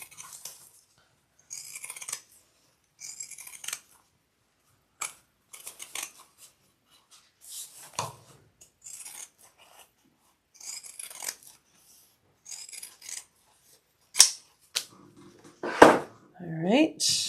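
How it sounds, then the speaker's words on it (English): Pinking shears snip through fabric during a sewing project, giving short crisp cutting bursts spread across the stretch, with louder crunchy cuts near the end and a voice talking between them. "You don't have to use pinking shears for this part, but they were right there,"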